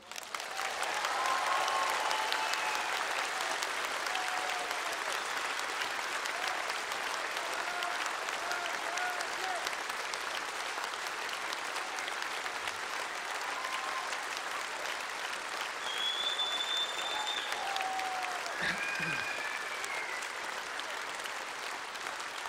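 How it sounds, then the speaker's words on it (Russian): A concert audience at a birthday show applauds steadily, dense clapping sustained across the whole stretch at an even level. A few faint voices and whistles rise above it here and there. "Ну, позвольте мне считать ваши аплодисменты поздравлением."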